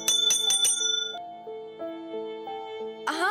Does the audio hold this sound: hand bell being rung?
yes